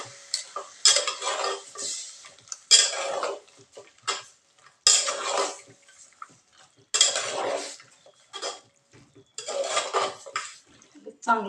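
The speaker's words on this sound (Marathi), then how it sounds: "तेलावर परतून चांगलं घेऊया." Mutton pieces with whole spices are stir-fried in oil in a pan, repeated bursts of scraping, clattering stirring and sizzle in distinct strokes separated by short quiet gaps, with a person talking intermittently.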